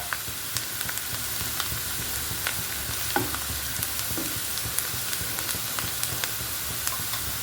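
Garlic cloves sautéing in a hot pan, a steady soft sizzle under repeated light scrapes and stirs, close by and fairly quiet, with no voices.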